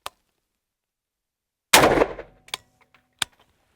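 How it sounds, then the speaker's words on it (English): A single loud gunshot from a firearm fired next to a measuring device indoors, a sharp close blast with a brief decaying tail, followed by a few fainter metallic clicks and a small clack. "I'll arm the device and we'll take our first shot in the optimal position."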